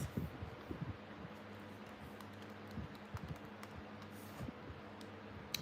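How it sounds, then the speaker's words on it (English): Someone types on a computer keyboard in a quiet room: a run of light, close key taps with uneven rhythm and brief pauses between bursts. "let me type it into the chat"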